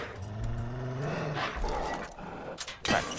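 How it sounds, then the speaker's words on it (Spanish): A wolf in Far Cry 5 growls and whines in short, tonal bursts, fairly quiet and close, ending with a sharper snarl. "Y tienen aquí un señor lobo."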